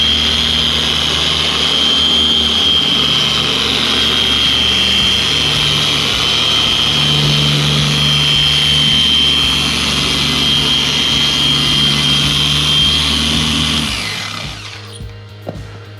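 An orbital buffer polishes paint scratches on a BMW E46 M3, whirring loudly and steadily with a high whine held throughout, then winding down near the end.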